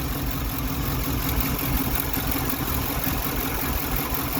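A Ford 3-liter V6 idles roughly with a misfiring cylinder, a steady rumbling idle with an uneven, stumbling pulse, loud and close, with no voices.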